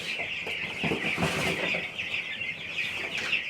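Several young Rocky Mountain chickens cluck and chirp close by in a continuous, busy chatter, with occasional shuffling underneath.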